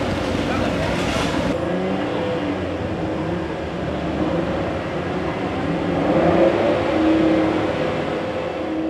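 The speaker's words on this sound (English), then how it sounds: "The cars are waiting for the red light to go out." Maruti Suzuki Alto K10 race cars idling and revving together on a starting grid, a steady dense engine drone that swells louder near the end, with a commentator talking over it.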